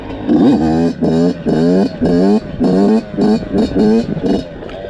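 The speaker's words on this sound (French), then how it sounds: "là j'ai l'impression de plus jouer avec l'équilibre de la moto en deuxième" A small Yamaha 85 YZ dirt bike engine revs in repeated bursts in second gear, rising and dropping in pitch with short gaps between throttle pulls, loud and close.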